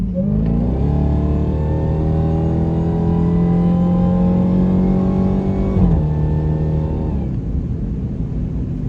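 A 2023 Dodge Demon 170 accelerates hard, its engine roaring loud and close as the pitch climbs steadily, briefly steps down at a gear change, then keeps pulling before easing off near the end.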